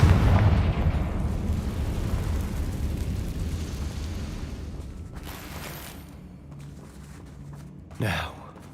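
A Confringo spell explosion in the video game Hogwarts Legacy, a heavy boom at the onset that decays into a long low rumble, with a brief voiced exclamation near the end.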